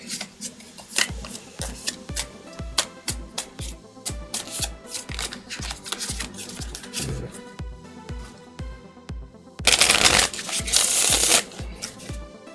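Tarot cards are shuffled over and over in quick, crisp riffles close by, followed by a longer, louder burst of rapid shuffling.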